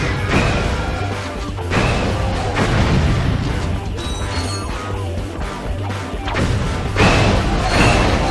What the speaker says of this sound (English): Fire your shock blaster.